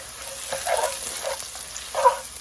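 Shrimp and chicken fried rice stir-frying in a pan, a soft steady sizzle broken by a few scraping, clattering stirs, close and fairly quiet, with no voices.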